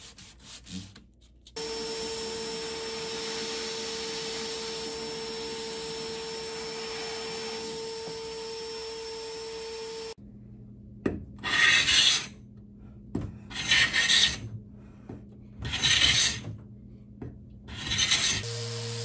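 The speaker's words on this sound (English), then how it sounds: "If they still have some life in them, I save them because then I could do some hand sanding." A worn sanding pad is rubbed by hand across a wooden dresser in rhythmic scratchy strokes, several close passes in bursts. Before that, a vacuum-like shop machine hums steadily.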